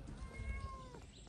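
A single faint, drawn-out kitten meow rises and falls against low background rumble, in Azrou, Morocco.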